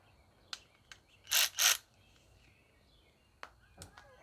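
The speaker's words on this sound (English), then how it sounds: "So I'm going to use my battery power ratchet" Battery-powered ratchet loosening the recoil starter bolts on a Honda GCV190 pressure washer engine: two close, loud whirring bursts in quick succession, with scattered small clicks and taps of the tool and parts before and after.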